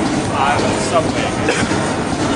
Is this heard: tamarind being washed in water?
no